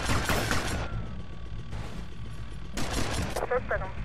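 Gunfire in GTA Vice City: several loud bursts of shots in a row, mixed with dense game noise and mechanical clatter, with a brief pause before the second burst.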